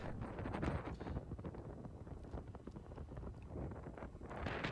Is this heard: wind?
yes